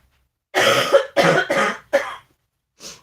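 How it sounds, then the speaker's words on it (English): Several harsh coughs in quick succession, loud and close, followed by a softer final cough after a short gap. "That'll be me coughing again."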